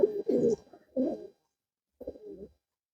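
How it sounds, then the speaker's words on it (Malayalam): Breeding-stock pigeons in a loft cooing in close, soft bursts: two quick coos, then a pause and a third, with no voices. "നമ്മളെ ബ്രീഡിംഗ് സ്റ്റോക്ക് പ്രാവാണ്."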